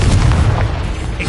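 A Confringo blasting spell going off in Hogwarts Legacy: one loud, deep booming explosion close by, rumbling heavily for just over a second.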